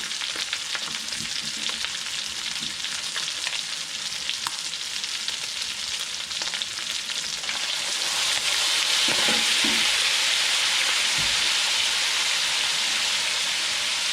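Chicken liver frying in a pan for a Kapampangan chopsuey, a loud, continuous sizzle that swells louder partway through, with occasional stirring scrapes and no talking.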